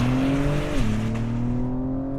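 A 2021 Acura TLX Type-S sport sedan launching at full throttle, engine note climbing steadily, dropping briefly at a gear shift, then rising again, loud and close from inside the cabin.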